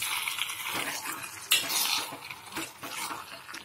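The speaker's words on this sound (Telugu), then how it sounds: "మొత్తం కలిపేసుకోవాలి." A spoon mixes grated raw mango and carrot chutney in a bowl, giving close, quiet scraping and clinking strokes with a wet, stirring texture and no talk.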